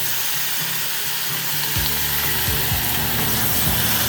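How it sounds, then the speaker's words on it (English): Thin-sliced meat fries in teriyaki sauce in a hot pan, a loud, continuous sizzle broken by a few dull knocks of stirring, heard close with no voices. "I'm gonna fry the meat, soak in a teriyaki sauce."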